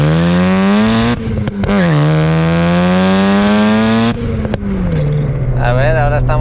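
A Mazda RX-7 rotary engine running low turbo boost in third gear revs up hard, its buzzing, high-pitched whine rising, dropping back and surging again, loud and close.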